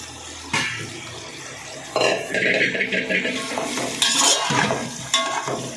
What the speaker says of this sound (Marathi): मी आता सगळा कांदा घालते याच्यात